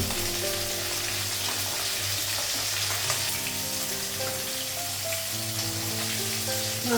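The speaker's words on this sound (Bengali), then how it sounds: "মাছটা ভাজা হয়ে গেছে।" Fish fries in hot oil in a pan, a loud, steady sizzling hiss that runs continuously and close, with no voices over it.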